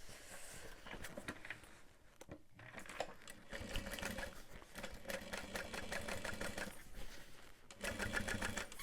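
Sewing machine top stitching a vinyl accent on a backpack, a rapid mechanical clatter of needle strokes running in bursts with brief pauses, close and fairly quiet.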